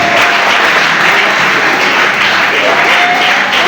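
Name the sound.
audience applause at an award ceremony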